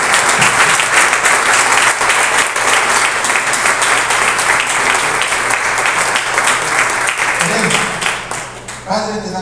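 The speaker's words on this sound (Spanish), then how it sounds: "Le damos un aplauso al Rey de Reyes" A church congregation applauds loudly and continuously for several seconds, dense clapping that thins out near the end as a voice begins to speak.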